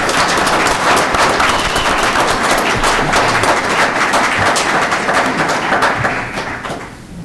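Sustained audience applause at an annual meeting, dense clapping from a crowd that holds steady and then fades out at the end.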